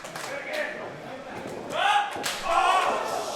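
Open-hand chop strikes traded between two wrestlers in a pro wrestling match, Mike Bennett versus Bryan Keith, landing as loud slaps over crowd noise and commentary.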